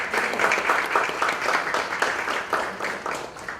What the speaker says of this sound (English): Give them all the big round of applause.